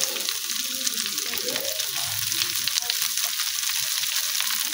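Radish greens go into a pan of browned onions and fry with a steady, close sizzle, a dense hiss with soft stirring bumps underneath and no speech.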